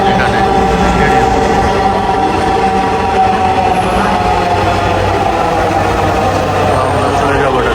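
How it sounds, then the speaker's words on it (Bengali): A Dhaka metro train pulls into a station with a loud, continuous rumble and rolling rail noise close by, steady throughout, with people's voices faintly in the background. "ট্রেন চলে আসছে, আমরা এটা দিয়ে চলে যাব।"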